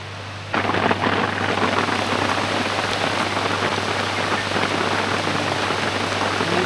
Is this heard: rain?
yes